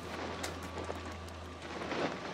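Steady rain falls outdoors in the horror game Outlast, a soft continuous hiss with faint scattered drips and a low ambient hum, with no talking.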